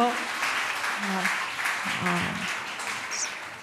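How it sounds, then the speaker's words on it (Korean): An audience claps for children at a church elementary cell-group talk show, a steady wash of applause lasting a few seconds with voices mixed in. "여러분 박수 한번 주세요"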